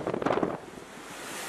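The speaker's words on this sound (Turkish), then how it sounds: "Hızı zaman zaman 100 kilometreyi bulan fırtına hayatı olumsuz etkiledi" Storm wind in İzmir gusting against the microphone, mixed with surging sea, a louder rough burst at first settling into a steady broadband roar.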